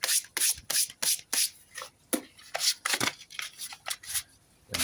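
Sandpaper is worked by hand over the body of a Telecaster guitar kit, close and fairly loud, with repeated rhythmic rasping strokes and brief pauses between passes.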